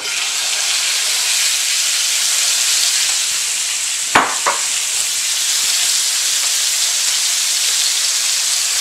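Shrimp hit hot oil in a preheated pan, setting off a loud, steady sizzle that fills the whole clip, with a couple of brief clinks near the middle.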